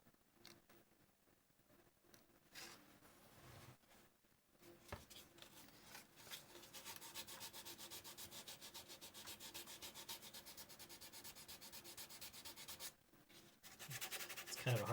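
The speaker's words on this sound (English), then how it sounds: "I am going over it as light as I can with the sandpaper" Sandpaper is rubbed lightly over a 3D printed part, giving a faint rhythmic scratching of quick strokes that grows steadier and louder, with short pauses and no speech.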